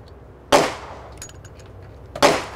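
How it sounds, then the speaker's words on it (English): A Smith & Wesson M&P pistol slide, just fitted with a 9mm barrel, is pushed back onto the frame, giving two sharp metallic clacks about two seconds apart, close and loud, with quiet between. "Slides back on."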